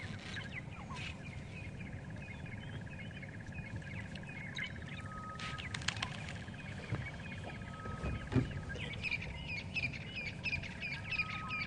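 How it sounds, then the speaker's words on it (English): Magpie shrike calling on an African safari drive at sunrise, intermittent bright chirps among other small birds, with a low vehicle rumble underneath. "Magpie shrike that you can hear calling as well."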